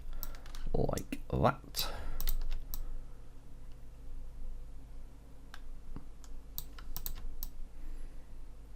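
Computer keyboard keys tapped while sculpting jewellery in ZBrush, a few quick clicks scattered between stretches of talk, close and fairly soft, with a low hum underneath.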